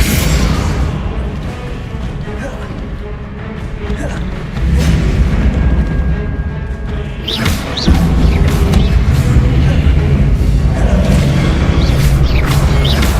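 Booming explosive blasts from the Bombarda spell in the Hogwarts Legacy video game, with heavy low rumbles and sharp crashes that swell louder midway, sounding near and dense against continuous game action.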